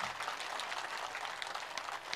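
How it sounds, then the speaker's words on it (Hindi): An audience at a Hindi poetry gathering (kavi sammelan) in Napasar applauds, a dense, steady patter of many hands clapping at once that fills the whole moment without a break. "एक बार अपनी ताली बजा के मुझे आदेशित कीजिए"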